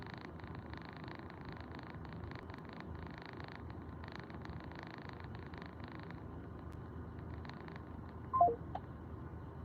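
Telephone keypad dial tones chirp near the end, a short quick burst of beeps over a steady background hiss and hum, with no talking.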